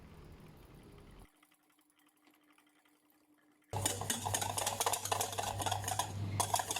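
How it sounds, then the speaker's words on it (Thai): A hand whisk stirs keto mayonnaise mixture in a pot over the stove, first faintly, then after a near-silent pause a loud, busy, continuous scraping and rattling run. "ใช้ตะกร้อมือเนี่ยนะคะ คนส่วนผสมตลอดนะคะ"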